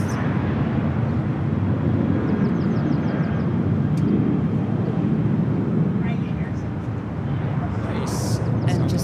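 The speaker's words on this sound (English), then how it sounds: "that's Southwest Airlines Flight 23 off to Dallas, 737-700" A Southwest Airlines 737-700 jet departs LAX for Dallas, its engines a continuous broad rumbling roar that stays loud and even throughout, with voices talking over it.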